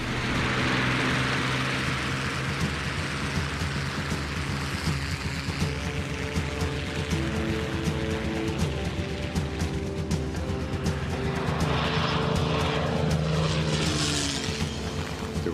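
A P-51 Mustang propeller engine at full throttle, a steady loud droning roar with a constant pitch that holds unbroken throughout, with no talking.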